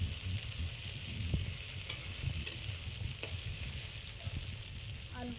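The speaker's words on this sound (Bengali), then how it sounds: "আলুটা দিয়ে আলুগুলোও ভালো করে ভেজে নেবে এর সাথে" Potatoes frying in a pan, a soft steady sizzle with occasional light scrapes and taps of a spatula, fairly quiet and continuous.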